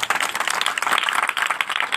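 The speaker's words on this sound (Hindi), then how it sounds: "जोरदार ताली बजाएं खुदा की" A congregation at a prayer meeting claps together in a dense, continuous burst of hand claps, fairly close and steady, with no voices rising above the clapping.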